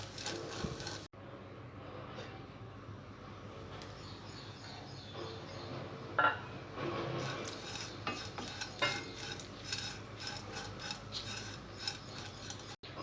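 Grated coconut frying and being stirred in a pan for coconut rice, a soft steady sizzle with scraping stirs and a few sharper utensil taps, close and fairly quiet with no talk.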